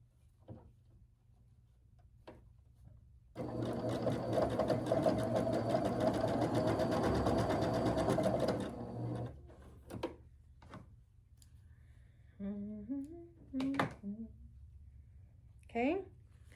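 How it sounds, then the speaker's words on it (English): A sewing machine stitches a quilt block onto a fabric rectangle, running in one steady burst of several seconds, bracketed by quiet handling noises and someone talking afterward. "I'm gonna sew this on to my rectangle"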